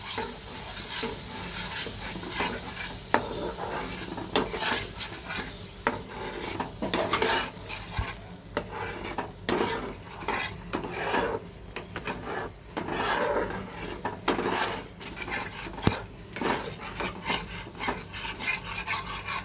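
Tomato puree being fried and stirred in a pan for a Bengali prawn malai curry, a gentle sizzle under continual scraping and rubbing of a spatula against the pan, with occasional sharper knocks and no speech.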